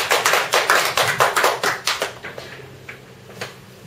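Audience applause breaks out at a church lecture evening, a dense run of loud clapping that thins and fades over a few seconds, with scattered last claps.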